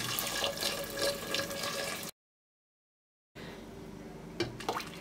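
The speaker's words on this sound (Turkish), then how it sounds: "1 litre su ilave edeceğim" Water is poured into a cooking pot, about one litre for a Turkish dinner, giving a steady close splashing and gurgling that stops abruptly midway, then resumes more faintly with small clinks.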